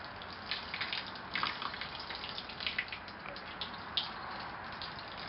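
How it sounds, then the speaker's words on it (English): A watering wand sprays a gentle stream of water over eastern red cedar seedlings, a steady hissing wash of spray with small spatters and drips, close and continuous throughout. "here's a little watering wand that I use. I turn it on"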